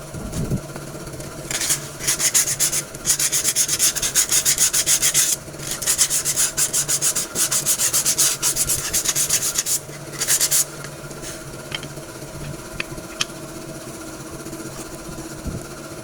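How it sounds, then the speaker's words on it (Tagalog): A piston for an Isuzu 4HL1 engine is filed by hand, producing steady, rapid rasping strokes in long runs with short pauses, close and prominent over a faint background hum, without speech. "Lihain mo na lang."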